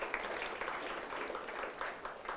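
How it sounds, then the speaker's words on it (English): Audience applause at an awards event, a soft, dense patter of clapping that is faint and somewhat distant and holds steady throughout. "Mike, give him a round of applause down there"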